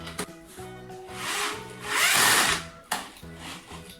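A power drill whirs in short bursts while driving screws to assemble a chair, rising to a loud grinding spell in the middle, with brief clicks and knocks between runs.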